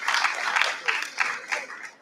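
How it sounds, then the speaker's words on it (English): Audience applause in an auditorium at a national science camp, a soft, steady patter of many hands with a few louder bursts, heard from a distance. "Give him a big round of applause"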